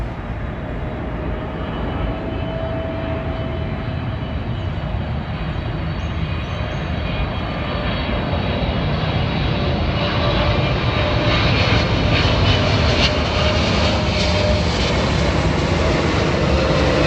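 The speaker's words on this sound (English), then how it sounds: "here comes Air France from Charles de Gaulle Airport in Paris" An Air France airliner out of Charles de Gaulle flies overhead, its jet engines a steady, loud roar that swells slowly and stays continuous throughout, with no talking.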